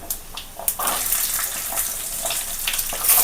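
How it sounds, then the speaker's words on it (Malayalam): Shallots dropped into a hot frying pan for an egg thoran, a bright hissing sizzle that flares up and holds steady, close and fairly loud with no talk. "നമുക്ക് ചെറിയ ഉള്ളി ഇട്ട് കൊടുക്കാം"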